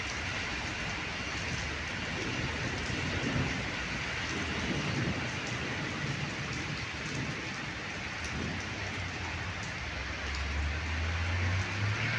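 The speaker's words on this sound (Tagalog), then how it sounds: "Ang lakas ng kulog." Steady heavy rain hisses throughout, and a deep rumble of thunder swells low beneath it toward the end.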